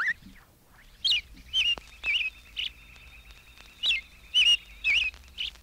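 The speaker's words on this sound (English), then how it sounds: "Robin." An American robin sings a run of short, whistled, warbling phrases, clear and fairly close, separated by brief pauses, with no talking over it.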